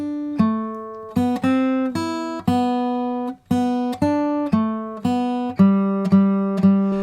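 Fingerstyle guitar melody played alone, clear plucked single notes with ringing harmonics in a simple, even, nursery-rhyme-like rhythm, close and clean with no talking.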